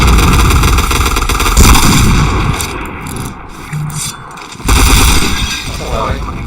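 Gunfire from a tactical shooter video game: bursts of loud, sharp shots, heavy at the start and again near the end, separated by a quieter gap, with game effects and voices mixed in.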